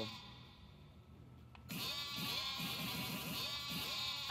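After a sudden burst, a flock of sheep in the video game Yakuza: Like a Dragon bleats repeatedly in a dense, overlapping chorus over steady game noise.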